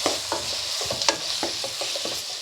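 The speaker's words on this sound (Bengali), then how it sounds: "পেঁয়াজের সঙ্গে মাছের মাথাটাও কিন্তু একটু ভালো করে ভেজে নেব" A chopped fish head fries with onion in hot oil, a constant close sizzle broken by repeated soft scrapes and knocks of stirring.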